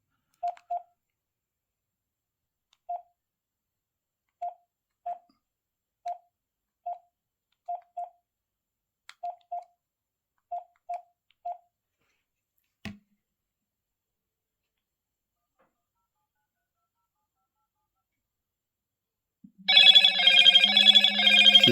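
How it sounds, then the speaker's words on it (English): A Motorola G85 phone sounds its incoming-call ringtone, a loud melodic ring starting near the end after a long quiet stretch of short dial-tone beeps from the calling handset. "So I'm going to call the phone."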